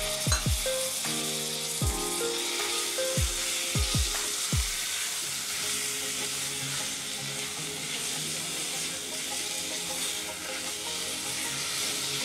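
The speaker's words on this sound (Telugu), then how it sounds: "ఇప్పుడు మనం ఈ చికెన్ వేసుకుందాం." Chicken pieces go into a pan of fried ginger garlic paste, setting off a steady loud sizzle, with several sharp knocks and scrapes of a spoon stirring early on.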